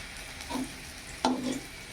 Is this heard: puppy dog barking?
no